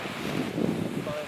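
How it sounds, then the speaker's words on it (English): Wind buffets the microphone at an outdoor paraglider launch site, a loud rumbling gusty roar that fills the whole moment, close and unbroken. "Some wind."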